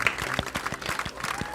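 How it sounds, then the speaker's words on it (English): A short burst of soft, polite golf-clap applause from a few people, quick light hand claps patting in a steady scatter for under two seconds. "Golf clap."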